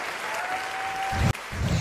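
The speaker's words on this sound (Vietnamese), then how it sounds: "một tràng pháo tay dành cho ba cô gái xinh đẹp của chúng ta" A short burst of applause from an audience at a Vietnamese music show, steady clapping with a brief thump partway through.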